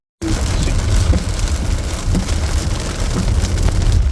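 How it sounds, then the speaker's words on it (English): Heavy rain pours down in Britain, a loud, dense, continuous hiss and patter of drops hitting surfaces. It starts abruptly and continues without pause. "I don't know if it's shown how bad it's raining."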